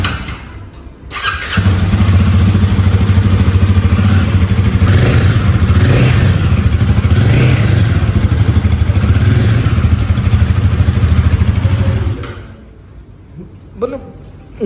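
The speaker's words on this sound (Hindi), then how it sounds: "इंजन की भी साउंड आ रही है और पूरी एग्जॉस्ट साउंड भी जो है अच्छी तगड़ी सी" A Royal Enfield Guerrilla 450 motorcycle engine runs steadily with a deep, rumbling exhaust for about ten seconds, close and loud, before cutting off and leaving near silence.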